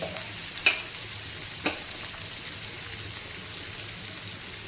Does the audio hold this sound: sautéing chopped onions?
yes